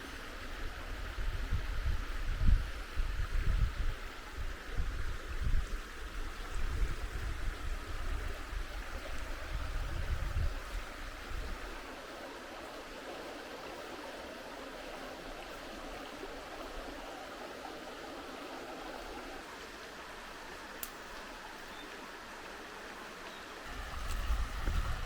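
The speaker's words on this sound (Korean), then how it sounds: "개울가에 와가지고 너무나 고요하게 물소리 들으면서 햇볕 비치고" Creek water flows steadily over stones in a quiet stream setting, a soft continuous wash with no voices. It is a bit fuller in the first ten seconds and calmer afterward.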